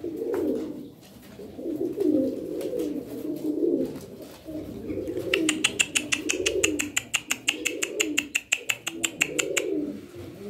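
Çorum Çıplak tumbler pigeons coo in low, repeated rolling phrases, joined midway by a rapid series of sharp clicking or chirping sounds, close and fairly loud.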